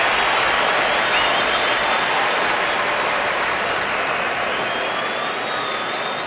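Stadium crowd at an NFL game between the Denver Broncos and San Francisco 49ers cheers and applauds a player, a loud, dense, steady roar of clapping and voices sustained throughout.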